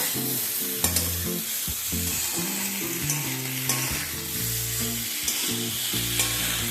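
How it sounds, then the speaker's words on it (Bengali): Ginger paste frying in a pan while it is stirred, a dense steady sizzle under tonal background music, with occasional scraping stirs, close and loud throughout. "আদা বাটা আরও প্রায় দেড় থেকে দু মিনিট সময় নিয়ে এটাকে একটুখানি ভাজা করে নেব"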